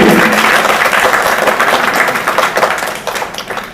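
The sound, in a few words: loud applause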